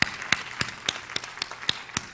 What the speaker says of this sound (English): Yes, we applaud you.